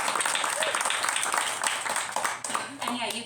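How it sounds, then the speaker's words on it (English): An audience at a book launch applauds for Sally, a brief burst of dense clapping mixed with voices talking over it throughout. "Give a big round of applause for Sally."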